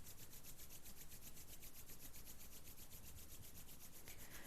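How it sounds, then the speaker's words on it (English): Hands rubbing together during a sunrise meditation, a soft, steady dry friction with even rhythmic strokes, close and quiet, heard alone without talk. "And then rubbing the hands together again."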